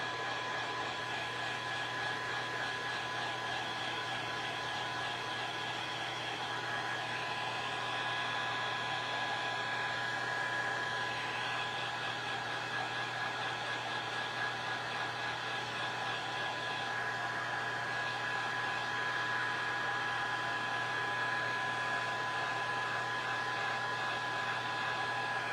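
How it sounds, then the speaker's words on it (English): Heat gun blowing hot air over DIY rustic Christmas craft pieces, a steady, even whooshing hum with a faint high whine that runs unbroken for the full length at moderate, close volume. "I'm just gonna hit these with the heat gun."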